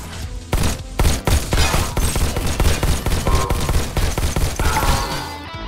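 Rapid pistol and shotgun fire in the VR shooter Robo Recall, a dense, loud barrage of sharp repeated shots lasting throughout, with a faint ringing tone near the end.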